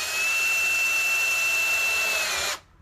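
A cordless drill bores a hole with a steady high-pitched whine, close and loud, running continuously for a couple of seconds before stopping abruptly.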